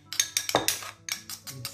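Egg yolk is mixed in a bowl, with a utensil clinking bright and close against the rim in quick irregular taps, several bursts with short pauses between.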